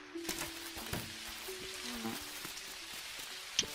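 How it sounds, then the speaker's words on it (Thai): Light rain patters steadily in the farming game Dinkum, a soft, even hiss with scattered drop ticks and a few faint game tones, low in level and with no voices. "วันนี้ฝนตกดีมากไม่ต้องรดน้ำต้นไม้"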